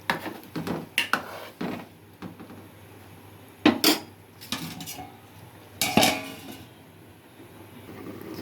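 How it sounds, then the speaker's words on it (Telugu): A metal spoon clanks and scrapes against a pot of Nellore-style fish curry in several separate bursts, followed by a lid knocking into place, all close by with quiet pauses between. "ఒకసారి కలుపుకొని మూత పెట్టుకుందాం ఫ్రెండ్స్"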